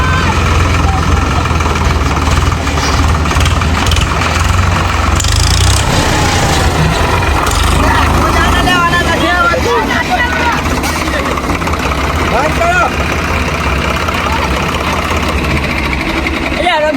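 A tractor engine chugs steadily throughout, a loud continuous low rumble close by, with people talking over it at times.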